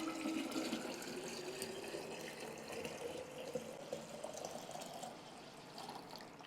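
Two litres of cold water are poured over freshly squeezed lemon juice for Lebanese lemonade, a steady continuous splashing pour that runs the whole time at a fairly soft level.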